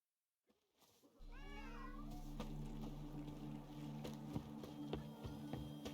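In The Witcher 3, several cats meow in a rising, wavering cry after a brief silence, then a steady game ambience with scattered soft clops and taps carries on.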